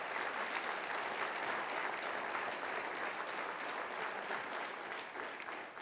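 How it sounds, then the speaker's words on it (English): Sustained, steady applause from an audience at a community breakfast, a dense wash of clapping that holds for several seconds and eases slightly at the end. "let's give them a round of applause"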